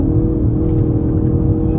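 A 2024 Nissan Altima SR VC-Turbo accelerating at about a third throttle, heard from the cabin: a loud, steady low engine drone and whir that holds constant over a short stretch, with no talking.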